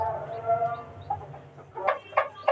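Hens cluck on a home poultry setup with newly hatched chicks, giving short, separate clucks that rise into a quicker, louder burst of several calls near the end. A low hum sits underneath.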